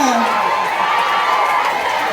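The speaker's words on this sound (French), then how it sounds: "est-ce qu'on peut applaudir très fort le président de la République" Loud crowd of children and adults cheering and applauding continuously at a school report-card ceremony, a dense roar of shouts and clapping with voices throughout.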